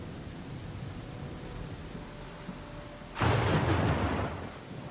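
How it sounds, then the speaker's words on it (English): Thunder from a close lightning strike in the Pathfinder: Kingmaker video game bursts out suddenly over a faint rain hiss, a loud broadband crack and rumble that fades over about a second. "That is lightning. That got very close."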